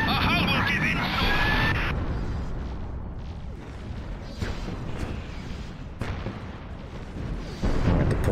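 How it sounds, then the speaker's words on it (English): Ship cannons firing in a space battle in the strategy game Nexus: The Jupiter Incident, a continuous roar of heavy shots and booms. Weapon bursts swell and fall across the whole stretch, with louder blasts near the start and end. "They just keep on shooting"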